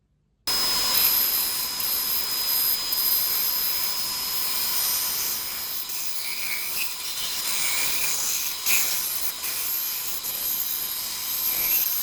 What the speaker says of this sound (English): that's given me something that I can cut out on the bandsaw.